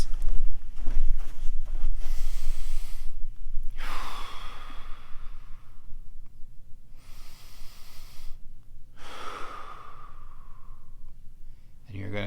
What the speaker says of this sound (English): to breathe properly with your diaphragm, you're just gonna make sure your belly comes up when you breathe in, and then you're going to tighten your tummy when you exhale